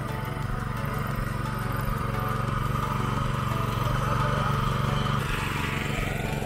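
A Firman cultivator's small petrol engine runs steadily at a constant throttle, a loud continuous mechanical drone with a rough pulsing beat, close by and unbroken.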